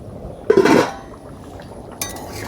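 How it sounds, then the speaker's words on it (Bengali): A cooking pot of Bengali fish curry with taro and live snakehead fish has its lid lifted off, giving a sharp metallic clink followed by a brief rattling scrape, then another clink near the end, close and fairly loud. "তো এখন ঢাকনাটা উঠে দিই কিরকম হয়েছে।"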